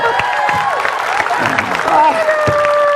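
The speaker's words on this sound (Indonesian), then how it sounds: "Tepuk tangan." A studio audience claps and cheers for retired general Moeldoko at the close of an Indonesian talk show, a short burst of applause mixed with crowd noise and a voice talking over it.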